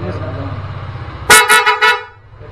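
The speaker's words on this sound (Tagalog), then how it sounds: "Kaya dinig natin yung busina ng Bosch Evolution." A Bosch Evolution horn honks in three short, loud blasts after a low engine hum, close by.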